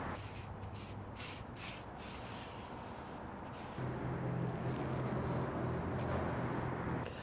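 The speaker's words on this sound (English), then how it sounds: "We're just gonna wipe out that large 12-inch skillet we used for the onions" A large 12-inch skillet, just used for cooking onions, is wiped out with a steady close rubbing and scraping that grows a little louder and fuller halfway through, with no talk.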